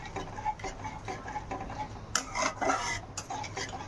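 Yogurt mixed with spices is stirred in a cooking pan, giving a steady close scraping and rubbing of a spoon against the metal, with a few brighter clinks of utensil on pan partway through.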